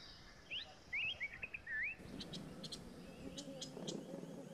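Birds call at a forest waterhole in Kolhapur, with a few clear, bright chirps and whistles up close, followed by softer, busier background twittering and rustling.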